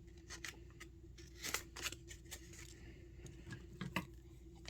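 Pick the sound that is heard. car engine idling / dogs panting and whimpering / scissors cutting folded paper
scissors cutting folded paper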